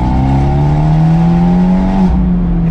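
An Abarth 124 with a Monza exhaust is driven hard, its engine droning loud and close with rising harmonic tones under acceleration, then a brief dip as the revs shift near the end.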